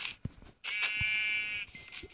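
A sheep in a video game gives a single drawn-out bleat, clear and close, framed by a few faint clicks before and after.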